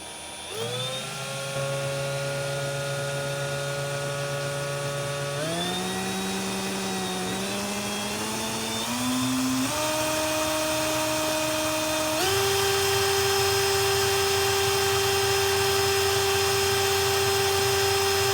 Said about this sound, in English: it'll start changing once I start the drill